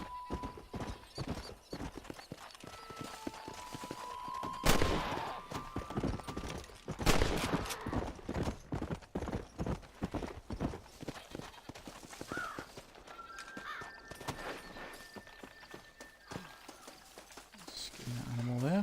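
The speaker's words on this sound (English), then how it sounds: "Horse." Horse hooves clattering in Red Dead Redemption on Xbox, a steady rhythmic clip-clop running through most of the stretch amid occasional gunshots and whinnies, with a person talking over the game.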